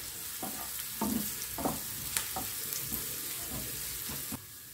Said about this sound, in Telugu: సో జీలకర్ర ఆవాలు కొద్దిగా వేగగానే ఉల్లిపాయలు వేసుకుంటాం